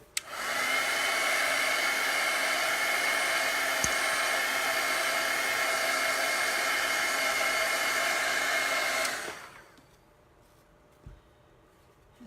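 A hair dryer blows steadily and close for about nine seconds over a chalk paste craft, a loud even whir that cuts off and winds down into near quiet with a faint click afterward.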